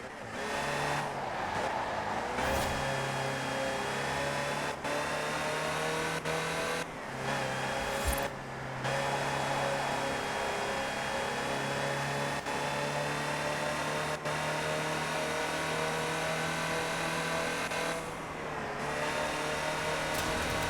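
A Land Rover driven in the racing game Forza Horizon 4 drones with a sustained engine note that rises and falls through gear changes, punctuated by brief sharp breaks and occasional tire noise, loud and close throughout.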